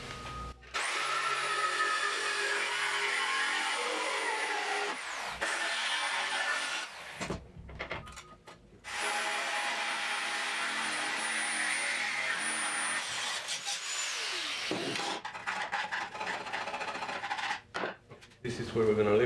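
A power cutting tool slicing through a section of steel frame on a 1974 Triumph TR6 under restoration, a loud high whine running in long bursts broken by short pauses and clatter.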